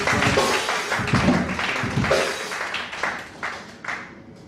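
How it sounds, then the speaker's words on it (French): A church congregation claps together in praise of the Lord, a dense, lively round of handclaps that starts full and gradually thins out into scattered individual claps toward the end. "Applaudissons pour le Seigneur."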